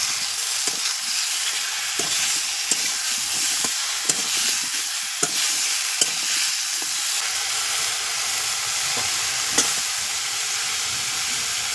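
Tomato, potato, carrot and bitter gourd cook together in a pan with a strong continuous sizzling hiss, punctuated by regular sharp stirring knocks, close and without speech.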